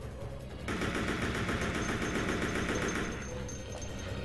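Sustained automatic AK-47 fire in Resident Evil Code Veronica X, a dense unbroken burst of rapid shots lasting several seconds at steady loudness before easing slightly at the end.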